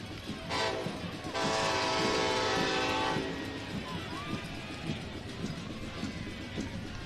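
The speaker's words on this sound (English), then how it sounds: "The train going by." A train passes near the soccer stadium during a Phoenix Rising FC versus Las Vegas Lights FC match, its horn sounding one sustained blast of about two seconds over steady crowd noise and broadcast commentary.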